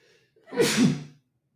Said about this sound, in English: I'm going to sneeze. Give me a second.